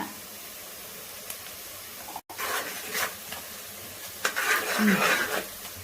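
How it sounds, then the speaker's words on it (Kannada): Chopped onions with spices sizzle and hiss in a pan for Hassan-style chicken biryani, a close frying crackle that grows louder with scraping stirs partway through. "ಈರುಳ್ಳಿ ಸೇರಿಸೋಣ. ಚೆನ್ನಾಗಿ ಫ್ರೈ ಮಾಡೋಣ."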